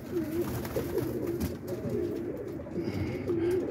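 Kit pigeons cooing close by, soft repeated rolling coos in a gentle rhythm over a light outdoor background hiss.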